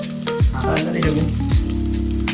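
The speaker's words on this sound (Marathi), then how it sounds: "आता टाकलं जिरं सारा कढीपत्ता हिरव्या या लाल मिरच्या सरळ थोडायच्या टाकून द्यायच्या" Cumin, curry leaves and green and red chillies hit hot oil for a Kerala-style village chicken, bursting into a loud, close, continuous sizzle while someone talks over it.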